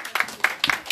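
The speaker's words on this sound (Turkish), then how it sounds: "Şimdi alkış." A few people clap in quick bursts, close by and fairly loud, as applause starts up in a small room where lights are being switched on.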